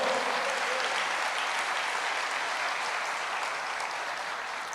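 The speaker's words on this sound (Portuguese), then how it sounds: "Aplauda o Senhor." Sustained applause from a church congregation during a sermon, a dense, steady wash of many hands clapping that carries on throughout and fades slightly toward the end.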